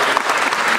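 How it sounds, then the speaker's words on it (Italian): A crowd applauds with dense, steady clapping that fills the short moment, loud and close. "adesso facciamo un applauso"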